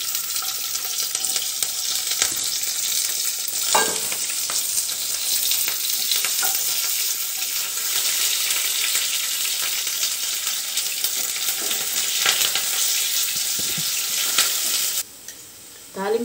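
Onion and curry leaves sizzle steadily in hot oil in a pan as a tempering for ivy gourd chutney, a close, continuous frying hiss with faint stirring scrapes and no talk.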